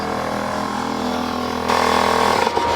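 An air-powered, belt-driven pneumatic lathe runs with a loud steady whirring drone, then its pitch and tone shift abruptly as it bogs down under load near the end.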